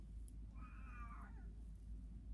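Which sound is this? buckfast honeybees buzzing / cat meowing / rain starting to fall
cat meowing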